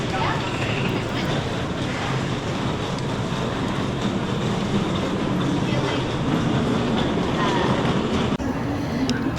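A train running at a busy Tokyo station, a loud continuous rumble and roar of rail cars passing close by with faint rhythmic clatter, steady throughout and briefly shifting near the end.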